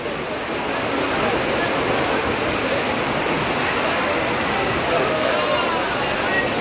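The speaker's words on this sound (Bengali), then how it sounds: "আরো জোরে হচ্ছে বৃষ্টি।" Heavy rain pours steadily over a wholesale fish market in Jatrabari, a dense, continuous hiss of falling water that stays loud and even throughout with no clear voices on top.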